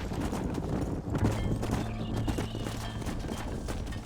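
Steady clip-clop of horse hooves in Red Dead Redemption at a brisk walking rhythm, close and continuous over a busy background with a low tonal hum.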